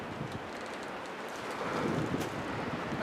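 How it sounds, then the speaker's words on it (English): Outdoor wind roars steadily as a broad, continuous rush that swells louder in the second half, buffeting the microphone with no voices. "It's really windy here."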